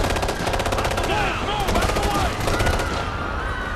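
Sustained automatic gunfire and machine gun bursts from the Ghost Recon Future Soldier video game, with rapid, rhythmic shots layered over dense combat noise throughout, loud and continuous.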